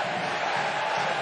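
A home basketball crowd in Sopron roars in a dense, sustained wall of cheering and whoops throughout, loud and steady with no distinct voices standing out.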